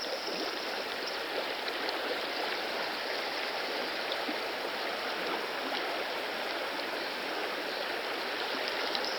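A river flows past in a steady, continuous rush of water, moderately faint and unchanging throughout, with no voices or other sounds breaking in.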